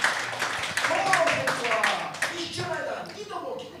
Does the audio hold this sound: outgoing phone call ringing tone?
no